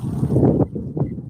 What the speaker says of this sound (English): See how windy it is?